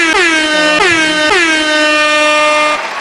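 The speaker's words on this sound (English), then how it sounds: "That was a dead air horn." A loud, blaring air horn sounds in three overlapping blasts, the last one held for a couple of seconds before cutting off.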